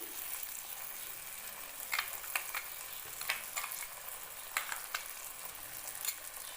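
Mustard paste frying in a pan with tomatoes for a fish curry, a soft steady sizzle broken by scattered scraping stirs of a spatula, quiet and close with no voices.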